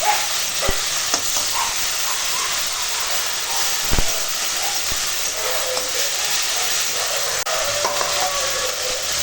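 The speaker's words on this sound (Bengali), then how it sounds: "আর দেব স্বাদ মতো লবণ দিয়ে পুরো দুধটা একটু রান্না করব" Milk with turmeric and salt cooking in a pan: a constant loud hiss and bubbling with a few sharp clicks of utensils against the pan.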